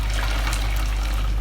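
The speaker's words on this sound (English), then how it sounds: "all I'm going to do is I'm just going to pour this into a bowl through" Homemade soy milk is poured through a nut milk bag into a bowl, making a steady, close, continuous splashing trickle of liquid with no pauses.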